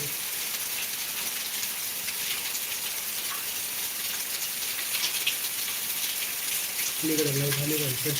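Heavy rain pouring in Beed, a dense steady hiss of downpour throughout, with a voice speaking briefly near the end.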